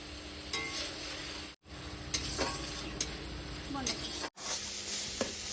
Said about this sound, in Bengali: তো চলো এবার আমি মশলাটা সুন্দরভাবে ভেজে নিই।